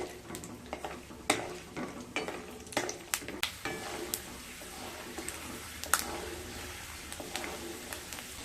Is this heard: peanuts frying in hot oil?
yes